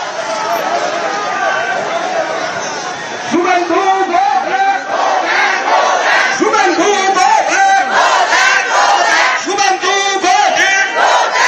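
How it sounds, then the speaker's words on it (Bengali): A large roadside crowd of Trinamool supporters in Baruipur loudly chants "go back" slogans in repeated rhythmic bursts over steady shouting as Suvendu Adhikari arrives, with a reporter's voice mixed in. "গো ব্যাক স্লোগান, কালো পতাকা দেখানো হচ্ছে শুভেন্দু অধিকারীকে।"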